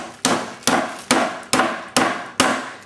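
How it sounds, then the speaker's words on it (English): Meat mallet pounding a pork loin flat, seven sharp evenly spaced thuds about half a second apart, each with a short dull ring, loud and close, no talking. "Now batten the meat out, as you can see here when I take it out."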